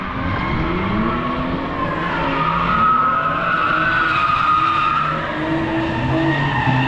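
A BMW E39 drifts on a track, its tires skidding and squealing loudly and continuously over a strained, revving engine, with no voices.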